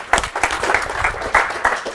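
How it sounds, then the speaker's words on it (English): An audience gives a round of applause, a brisk burst of many hands clapping close and fairly loud for about two seconds, with no talking over it. "Give Ed a round of applause."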